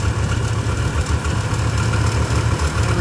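A two-stroke van engine idles steadily with a low, throbbing pulse as the idle slowly creeps upward, close and continuous with no speech.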